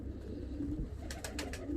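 Fancy costume pigeons, a paired breeding male and female, give soft low cooing at close range, with a few brief higher chirp-like bursts near the end.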